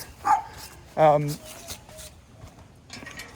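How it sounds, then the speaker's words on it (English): A dog in a backyard barks twice, short and fairly close, with a couple of fainter yips after, over quiet outdoor background. "There's Puppy"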